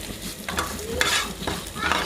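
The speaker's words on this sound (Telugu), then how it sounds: "ఆ ప్యాన్లోనే నూనె కొంచెం వేసి ధనియాలు, జీలకర్ర, ఎండుమిరపకాయలు దాంట్లో వేసుకోవాలి" Coriander seeds, cumin and dried chillies fry in a little oil in a pan over low heat. A steady sizzle runs throughout, broken by several scraping stirs.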